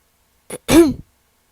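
A single close, sharp throat clearing, a short rasp followed by a louder voiced ahem, then silence.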